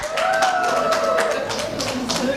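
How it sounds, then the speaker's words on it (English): An audience claps for a group at a workshop, producing a steady patter of hand claps throughout with a tonal voice-like sound running underneath. "Let's clap for group 6."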